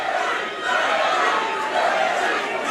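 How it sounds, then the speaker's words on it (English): Crowd at an amateur cage fight between Jon Rivera and Harry Dwyer chants and shouts for a fighter, a loud, steady wall of massed voices rising and falling in waves. "Crowd shouting Harry, I think"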